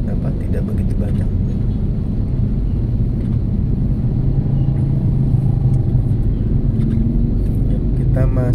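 Dense evening traffic jam at the Bekasi Timur toll exit, a steady low rumble of idling and creeping cars close by, continuous throughout with few horns, while someone talks over it.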